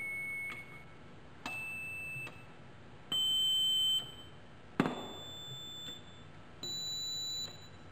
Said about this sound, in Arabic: كل ما بنعلى في التردد بنسمع صوت احد زي ما احنا شايفين دلوقتي